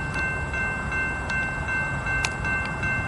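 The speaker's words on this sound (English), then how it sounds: "This is a westbound empty coal drag coming in the yard." Westbound empty coal train with Santa Fe Warbonnet and orange locomotives pulling into Hobson Yard in Lincoln, Nebraska, a steady low diesel rumble and rolling rail noise with a faint horn-like tone held throughout.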